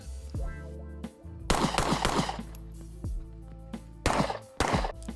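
Gunshots from a Sig Sauer P365 X Macro pistol with a compensated slide ring out as loud, sharp reports, several quick strings of shots with brief pauses between them, each shot followed by a ringing tail.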